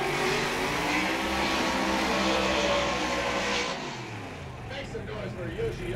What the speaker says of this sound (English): Forsberg's car is definitely louder than Yoshioka's